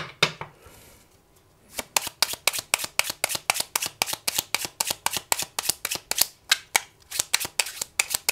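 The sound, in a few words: oracle cards being shuffled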